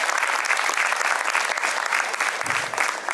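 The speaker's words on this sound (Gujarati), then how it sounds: "જોરદાર તાળીઓથી આપણે વધાવીએ" An audience at a board students' graduation ceremony at Purusharth Vidhyaniketan breaks into steady, dense applause, many hands clapping continuously and evenly for the whole stretch.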